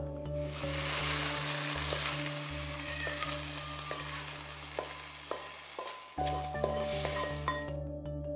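Fish pieces in sauce being stir-fried: a loud, continuous sizzle with scraping and clinking from stirring in the pan, all steady and close, with no talking.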